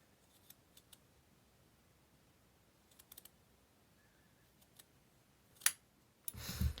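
Scissors snip through the knitted stitches of a steek in quiet, sparse little clicks, some single and some in quick pairs, before a louder rustling burst at the end.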